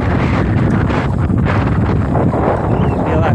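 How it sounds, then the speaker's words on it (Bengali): Strong wind buffets the microphone beside open water with waves, a loud continuous roar with gusty swells, and a voice talks faintly beneath it. "জোরে বাতাস হচ্ছে আর পানিগুলো দেখো"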